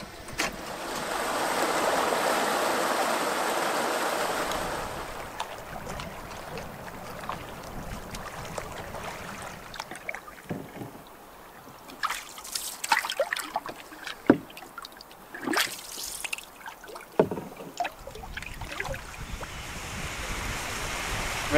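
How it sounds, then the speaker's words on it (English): Falling water at the south end of a lake pours in a steady broad rush, with gusts of wind and scattered splashes and knocks close by; no one speaks. "Beautiful falls at the south end of the lake now."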